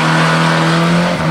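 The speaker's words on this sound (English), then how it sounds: "the engine is running" A banger racing car engine at a short oval track event runs steadily with a loud, continuous drone and a strong low hum throughout, dipping slightly near the end.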